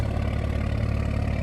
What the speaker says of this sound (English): Exhaust sounds good at idle.